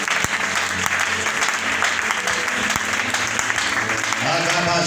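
A church congregation at a prophecy service claps and cheers in dense, continuous applause, loud and close, with voices mixed into the crowd noise throughout.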